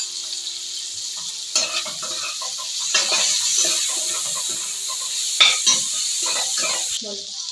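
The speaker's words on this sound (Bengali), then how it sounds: "আমি টমেটোটা ওর মধ্যে দিয়ে ভালো করে একটু ভেজে নেবো।" Onion and tomato sizzle and fry in a pan while a utensil stirs them in repeated scraping strokes, close and steady, with no talking.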